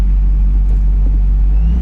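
A supercharged car with a blow-off valve recirculation kit cruises at idle, heard from inside as a loud, steady low engine and exhaust drone with a faint whine above it, no speech.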